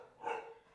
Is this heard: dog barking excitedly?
yes